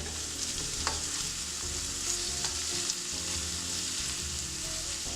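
Sausage and onions cook in a skillet with an even, moderate sizzle running throughout, marked by a couple of brief stirring scrapes and small pops; nobody talks.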